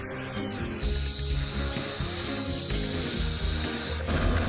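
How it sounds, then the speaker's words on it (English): A milling machine squares the edges of plasma-cut 3mm steel plate, a steady mechanical whine and grinding cut with a high tone that slowly drifts, running close and continuous, with no voices. "I then square the steel on the mill."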